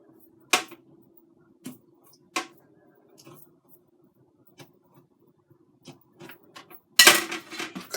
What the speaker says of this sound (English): Slicing up one more for me and Walter. Don't slice all the way through.